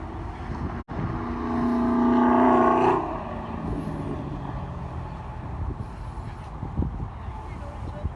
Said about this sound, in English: Got the Hennessy ZL1 on his clockwise laps.